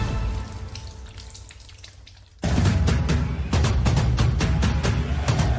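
A tap runs while hands are washed, first a softer, thinner trickle, then a sudden louder gush of water splashing steadily into a sink, close by.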